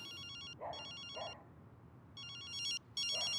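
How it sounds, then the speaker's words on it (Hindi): A telephone rings in short electronic bursts, four trilling rings with brief gaps, over low background hum and no talking. "अरे ये तो तैफूर का फोन है"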